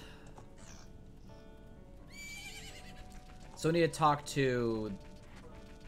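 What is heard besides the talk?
horse neighing and hooves in the video game Majora's Mask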